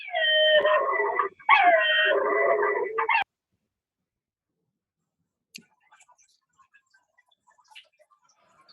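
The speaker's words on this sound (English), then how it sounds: "Somebody had a little yapping dog there, it sounded like" A small dog yaps and howls in two loud, high-pitched bursts over the first three seconds, then near silence follows with only a few faint ticks and clicks.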